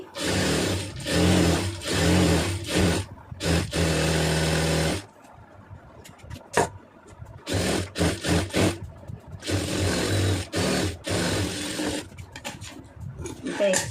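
A sewing machine stitching a round neckline runs in several loud bursts of rapid needle clatter, with short quiet pauses and handling noises between runs.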